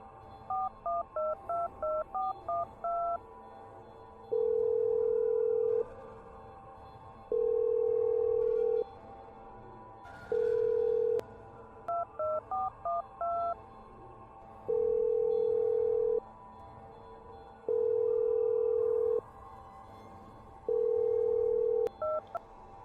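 A telephone call goes unanswered: a quick run of keypad dialing tones, then six long, evenly spaced ringback tones, with a second short burst of dialing tones partway through.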